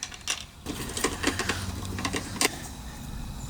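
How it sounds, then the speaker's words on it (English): Screws driven by hand into the cover of a Hayward PoolVac pool cleaner: close, small clicking and ratcheting ticks in short irregular bursts over a low background hum. "I'm going to go ahead and get the 4 screws in here."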